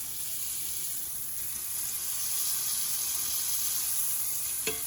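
A steak searing in butter in a cast iron skillet, giving a continuous hiss of fat at moderate heat with no talk, ending in one brief clink near the finish.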